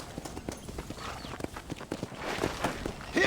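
Horse hooves clip-clop in the video game Red Dead Redemption: Undead Nightmare, a quick irregular run of close hoof strikes with a faint voice and game ambience underneath.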